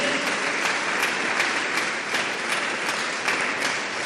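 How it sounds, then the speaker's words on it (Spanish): A church congregation claps hard and continuously, a dense, loud wall of applause that holds steady throughout with no break. "Dele fuerte las palmas a Dios Todopoderoso"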